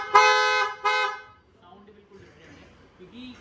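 A Creta-style horn fitted to a 2024 Suzuki Fronx gives two short, loud, bright honks in quick succession, followed by quiet talk nearby.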